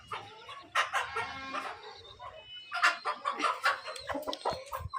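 A hen settled over her chicks clucks nearby in short, irregular bursts, with brief pauses between clusters of calls.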